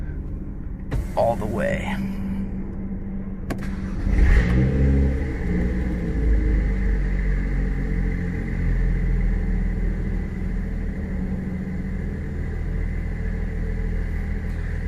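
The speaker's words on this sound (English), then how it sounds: "So I'm gonna start the car" A car with an MHD Stage 2+ tune cranks and fires up, then settles into a steady low rumbling high idle, heard close through an open window, with brief talk before startup.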